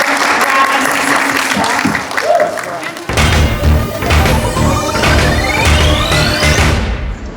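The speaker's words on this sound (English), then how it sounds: "So have a round of applause for" A panel audience at a 2000 AD comics podcast event breaks into loud applause, a dense wash of clapping that swells midway and cuts off, following someone speaking into a microphone.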